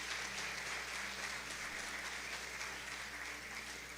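A church congregation applauds steadily throughout at an evening service, a dense even wash of clapping heard at a moderate distance with no break.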